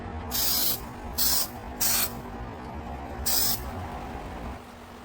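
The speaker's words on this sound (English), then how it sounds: "I'll start by applying a coat of Super 77 spray adhesive to add texture" Four short, hissing bursts of Super 77 aerosol spray adhesive, the first three close together and the last after a pause, over a low background hum.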